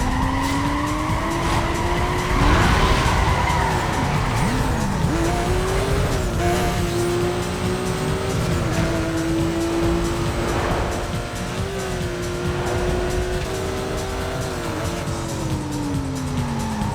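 A racing car in a sprint race in Need for Speed: Most Wanted (2005) holds a steady, loud engine drone with rising and falling revs, repeated tire squeals and skids, and cars passing close by.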